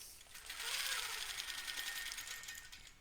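A longarm quilting machine guided along a Westalee ruler stitches a single line, giving a quiet, steady high rattling hum that runs for a few seconds without talk.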